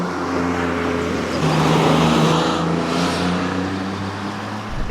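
A Porsche 996 Carrera drives along a road in France, its engine a loud, steady drone with a gentle swell of revs throughout and no voices.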